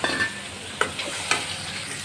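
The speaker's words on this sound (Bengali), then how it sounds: "এখন আমি পরেরগুলো ভেজে নিচ্ছি" Steady hiss and crackle of kalibaus fish frying in hot oil, with a couple of sharp clinks of a utensil against the pan; nobody speaks.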